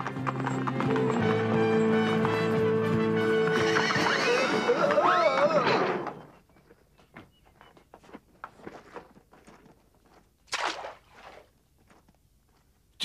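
Stagecoach horses neigh and whinny loudly over a rumbling mix of hoofbeats and wheels for several seconds, then the noise stops abruptly, leaving scattered hoof clops, footsteps and a brief burst of sound in the quiet.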